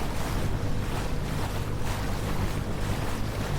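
A 2024 Yamaha VX Cruiser HO personal watercraft running on the ocean around Sanibel Island, Florida: continuous broadband rush of engine, spray and wind buffeting the microphone, steady and close, with no voices.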